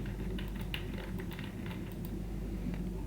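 Typing on a computer keyboard, scattered light key clicks in an irregular rhythm, faint and close against a low steady hum.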